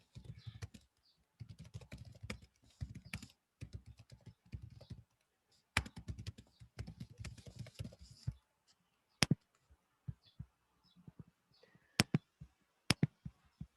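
Rapid typing on a laptop keyboard, close and clear, with bursts of dense clicking broken by pauses and a few sharp isolated key strikes toward the end.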